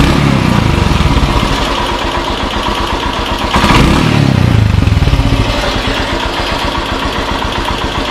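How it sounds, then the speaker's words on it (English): A Royal Enfield Himalayan motorcycle engine idles loudly up close, then its revs rise and fall with a throttle blip before settling back to a steady idle. "Give a couple of throttle blips and see the RPM climbs and comes down smoothly"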